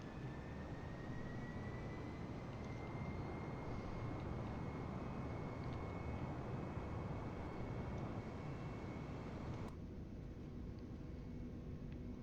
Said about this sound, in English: Prepare for takeoff.